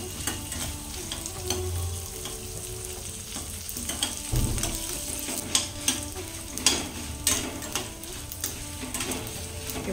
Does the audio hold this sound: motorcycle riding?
no